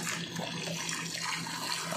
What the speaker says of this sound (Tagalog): So, lalagyan na natin ng tubig.